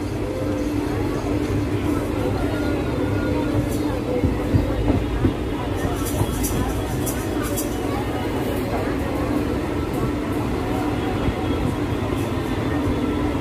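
A train rumbles steadily through Thirumangalam railway station on the Madurai–Virudhunagar line, with constant low mechanical noise and faint voices mixed in.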